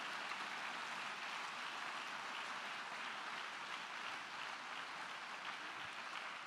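A church congregation applauds, a dense, steady wash of many hands clapping at moderate distance, continuous and even throughout without voices on top.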